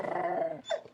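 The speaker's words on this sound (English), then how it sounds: "They sound like unhappy puppy dogs" Creatures in the video game Wizard101 give a short, close growl like an unhappy puppy, a low rumbling snarl ending in a brief yelp.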